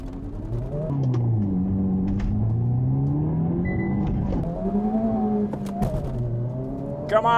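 A 2023 Honda Civic Type R launching from a dig in a drag race, engine rising in pitch through several gears with brief dips between shifts, heard from inside the car as a steady, moderately loud drone.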